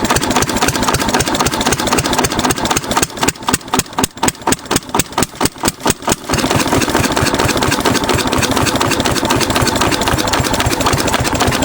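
A 6 HP Witte diesel engine idles steadily and loudly on its own, its fast, even chugging briefly breaking into a more distinct, spaced beat before settling back into a dense continuous run.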